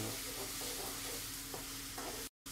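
Onions and vegetables stir and fry in a pan, a continuous close sizzle with soft rhythmic scraping of the utensil, ending in a sudden cut to silence.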